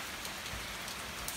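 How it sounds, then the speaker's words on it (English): Rain falls steadily as a constant, even hiss with soft patters on surfaces, and no voices. "Raining."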